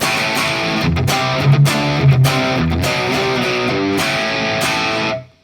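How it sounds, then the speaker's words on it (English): An electric guitar runs through a Marshall JCM 800 amp model on a Valeton GP-200X, giving a distorted rock tone with chugging chords and short gaps that rings out, then cuts to silence near the end. "So starting off with the Marshall amp, we went for the JCM 800."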